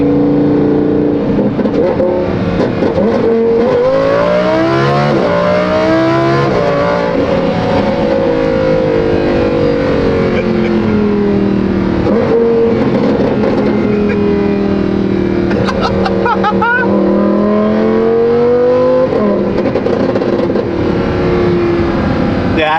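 Lamborghini fitted with a new F1-style exhaust, accelerating hard through repeated gear changes, its loud raspy engine note climbing and dropping in rising sweeps, close by with faint voices underneath.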